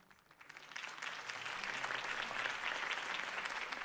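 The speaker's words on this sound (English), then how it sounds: "could have heard that applause" A video game crowd bursts into applause that swells quickly and holds as a dense, steady wash of clapping.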